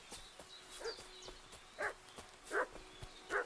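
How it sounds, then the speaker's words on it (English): A dog barking inside the game Kingdom Come: Deliverance II, sounding as three separate medium-loud barks spaced apart, slightly distant, over quiet ambient background with faint chirps. "What's that dog making such a fuss about?"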